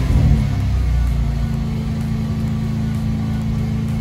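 Engine of a Mercedes C32 from a junkyard, suspected of knocking, running steadily at raised revs with a constant droning hum, close and loud throughout, no voices.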